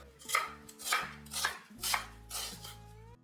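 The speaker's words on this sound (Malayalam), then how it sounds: "ഇനി ഇത് ഒരു പ്ലേറ്റിലോട്ട് മാറ്റി വെച്ചിട്ട് ഇനി സവാള കട്ട് ചെയ്യാം" A knife cuts an onion lengthwise on a board, giving about six distinct, evenly spaced chopping thuds, close and clear, with a low background hum and no talking.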